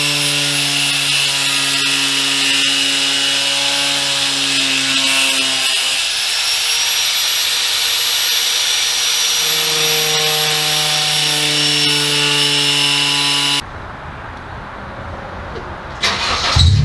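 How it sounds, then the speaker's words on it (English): A power tool cuts through the rear bumper of a Honda CR-V, a loud, steady, high whine with shifting pitch that holds for about thirteen seconds, then stops, leaving faint handling noises and clunks. "I'm gonna go ahead and mark out where I want to cut, because we're gonna be cutting some of that out on both sides."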